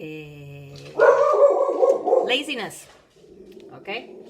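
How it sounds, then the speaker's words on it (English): A dog barks loudly and close in a burst of yips and bow-wows, overlapping a person speaking indoors, then quieter yelps trail off near the end. "Sorry about the dog."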